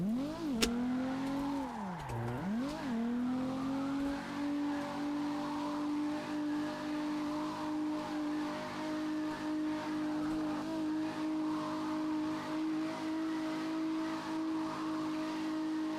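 Car drifting in the racing game CarX, its engine holding a loud sustained note after a couple of quick revving dips, with tire noise running underneath at close range.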